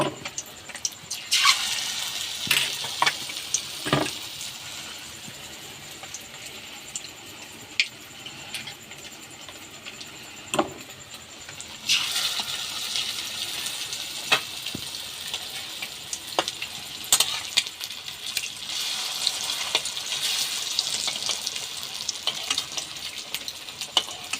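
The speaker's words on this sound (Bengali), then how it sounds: "এক এক করে প্রত্যেকটা ডিম আমি এভাবে তেলে ভেজে নেব" Eggs fry in hot oil one at a time. The sizzle is steady and moderately loud, with occasional sharp clinks and scrapes of a utensil, and it swells in the second half.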